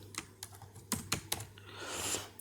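Computer keyboard keys typed in a few quick, uneven bursts to enter an ID on a sign-up form, close and moderately loud, with no talking.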